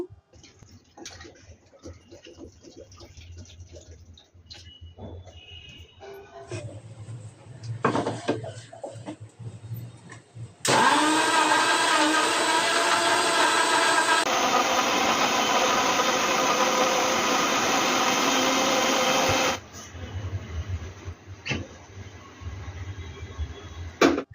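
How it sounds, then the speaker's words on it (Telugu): A mixer grinder blending bananas, sugar and cool water whirs loudly at high speed for about nine seconds, starting and stopping abruptly, with quieter clattering and handling noises before and after. "షుగర్ వేసిన తర్వాత కూల్ వాటర్ కూడా కొంచెం పోసి ఇంకా గ్రైండ్ చేసాను అనమాట"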